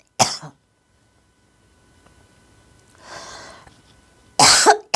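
A preacher in the middle of a sermon coughs in two short, loud bursts, one at the start and a heavier one near the end, with a quiet stretch and a soft breath between them.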